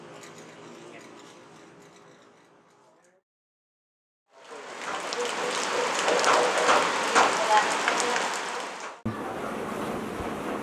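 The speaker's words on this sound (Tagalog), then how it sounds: "Lakas pa naman ng ulan." Heavy rain pours down in a town in Sto. Tomas, Pangasinan, a dense loud roar that fills several seconds after a quieter stretch and a brief silence, then continues after an abrupt cut.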